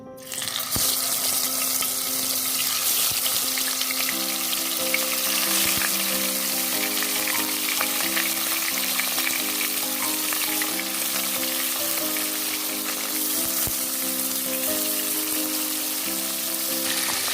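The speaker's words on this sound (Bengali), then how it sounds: "তেলটা গরম হয়ে গেছে, এবার মাছগুলো দিয়ে দিচ্ছি।" Marinated taki fish fries in hot oil with a loud, dense, continuous sizzle, close and unbroken, with a faint watery undertone running beneath.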